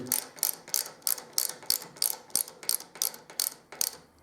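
TEC preload adjuster rings on a Triumph Scrambler's rear shocks are turned with a tool, giving a run of about a dozen sharp ratcheting clicks in a steady rhythm, close and distinct with no talk.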